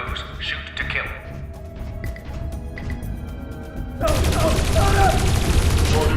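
Gunfire in the game Dreamfall Chapters, a sustained burst of rapid shots that erupts loud and close after a quieter stretch of scattered movement and ambient sound.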